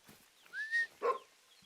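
A hunting dog in theHunter: Call of the Wild gives two short, close barks or yelps, the second quickly following the first, with a faint rustle before them and quiet afterward.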